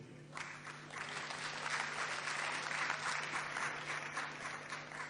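Audience at a Hindi poetry recital breaks into sustained applause, a dense wash of clapping from a moderately sized crowd that swells and then holds steady, heard at some distance.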